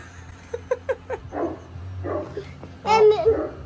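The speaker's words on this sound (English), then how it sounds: "Oh, the doggy." Dog barking outdoors during Halloween trick-or-treating at night, a few quick yips and barks in a short burst, followed by a child's babbling and adult voices.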